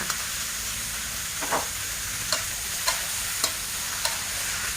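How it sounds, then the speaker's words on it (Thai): Fish balls are stir-fried in a hot pan with garlic and bamboo shoots, a constant hissing sizzle broken by several sharp scrape-and-clack strokes of a spatula at roughly even intervals, close and clear with no speech. "หอมได้ที่แล้วใส่ลูกชิ้นปลาลงไปค่ะ"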